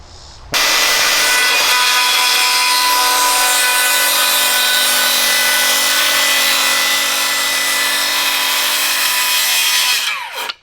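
A Bosch Profactor 18V rear-handle circular saw spins up and rips through wood in one continuous, loud, high-pitched cut lasting about ten seconds, then winds down at the end, with no talking.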